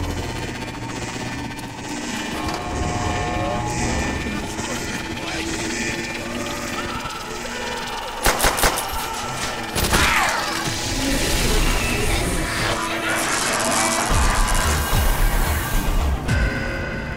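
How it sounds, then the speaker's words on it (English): Power switches on in the Black Ops 2 Nazi Zombies map Verruckt, followed by a dense, loud wash of mechanical rumbling, crashes and a distorted demonic voice, with sharp bangs near the middle. "when we turn on the power, listen to what happens. We hear some sort of demonic voice among other sounds."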